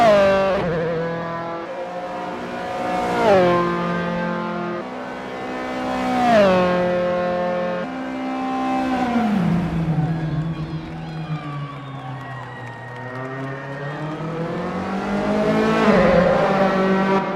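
A Dallara F312 open-wheel race car on an out lap at Rattlesnake Point in the Assetto Corsa racing game, its engine droning steadily with rising and falling pitch through several gear changes, loud and continuous.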